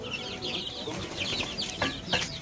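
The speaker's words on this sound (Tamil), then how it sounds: "புதுசாக கோழி குஞ்சு வாங்கியிருக்கோம்" Many newly bought small chicken chicks cheep in high, overlapping peeps, a steady busy chatter close by with no talking.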